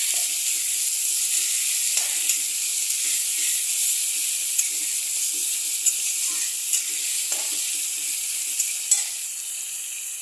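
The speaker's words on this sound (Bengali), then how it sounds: "এটার মধ্যে দিয়ে দেবো আমি এই ছোটো ছোটো করে কেটে রাখা আলুগুলো, যাতে আলুগুলো মশলার সাথে একবারে কষে যায়।" Small diced potatoes frying in a garlic and onion spice paste make a continuous bright hiss and sizzle, close and steady, with a few faint stirring clicks and no voices.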